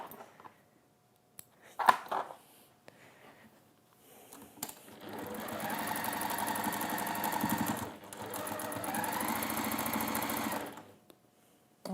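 Sewing machine basting along the base of an armchair tidy, a close, steady motor whir in two long runs after a few brief handling clicks.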